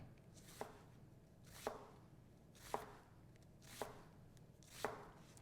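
A knife dices onion on a cutting board: five slow, even chops about a second apart, each a soft, distinct thud against quiet background.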